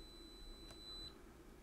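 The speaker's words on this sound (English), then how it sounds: "and it's beeping." A digital multimeter, a KAIWEET KM601 true RMS meter measuring a 1 ohm resistor, gives a short faint electronic beep, a thin steady tone lasting under a second over a quiet room hum.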